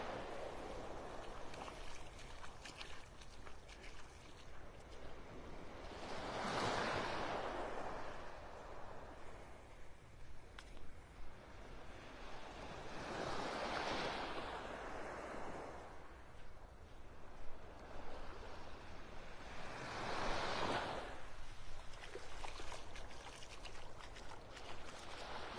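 Waves on Vanderbilt Beach in North Naples, Florida roll in as three broad surges, each swelling to a rushing wash and fading, over a steady background of surf on a quiet morning.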